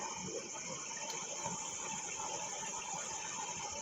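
Water gushes steadily from a running pump line, a continuous broadband rush that stays at an even, moderate level throughout with no voices.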